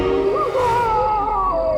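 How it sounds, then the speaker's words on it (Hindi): A ghostly scream of a spirit in a horror story: a loud, sustained, wavering howl-like wail that slides in pitch over a rumbling low background, heard alone. "एक आत्मा की चीख है।"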